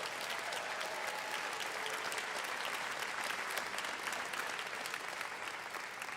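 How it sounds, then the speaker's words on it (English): An audience at a mayoral candidates' debate in Cape Breton applauds steadily, a dense, even wash of clapping from a sizeable crowd that holds for several seconds without talk over it. "A round of applause for your candidates for Mayor of the"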